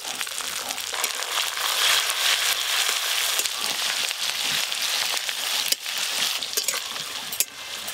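Chopped tomatoes fry with onions that have already been browned in a pan, producing a dense, continuous crackling hiss with a few louder pops.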